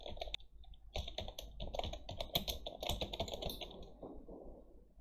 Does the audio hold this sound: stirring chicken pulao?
no